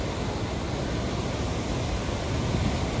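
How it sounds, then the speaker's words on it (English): Steady, dense roar of a waterfall at Haley Creek, Alaska, a continuous broadband rush heard close by with no voices over it. "Amazing waterfall right here."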